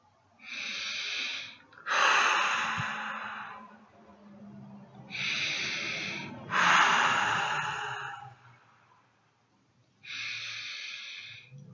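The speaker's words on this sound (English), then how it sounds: "Let's take a few deep breaths" A person takes deep breaths close to the microphone, three slow cycles of long inhalations each followed by a heavier exhalation, with quiet pauses between them.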